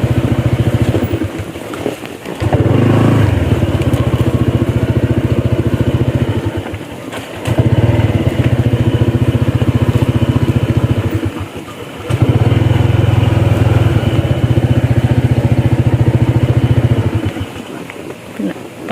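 A motorcycle engine runs loudly close by on a slippery, mossy road, with several long stretches of steady revving broken by brief dips as the throttle drops, and people talk between and over it.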